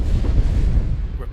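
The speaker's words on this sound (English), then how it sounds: "I think I'm going to continue bombing that, I might as well." Rumbling bombardment of a planet in the space strategy game Master of Orion, a dense, continuous low boom that rolls on steadily for over a second and fades slightly at the end.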